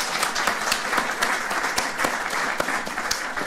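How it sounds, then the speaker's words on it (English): Audience applause from a patient and caregiver panel audience, a steady, dense wash of many hands clapping throughout, moderately close and continuous with no talk over it. "How about a round of applause for that?"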